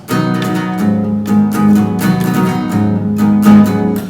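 An acoustic guitar is strummed in several full chords, each strike ringing out in a steady, unhurried rhythm, close and clear.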